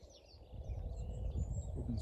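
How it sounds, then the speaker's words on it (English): Faint song of two robins drifts in from a distance during the dawn chorus, thin warbling phrases over a low outdoor rumble. "Probably 2 robins singing now."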